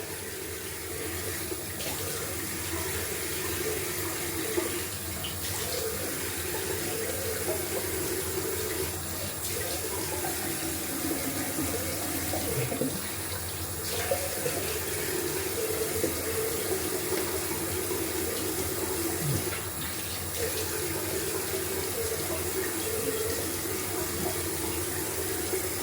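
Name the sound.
tap water running for rinsing face with cold water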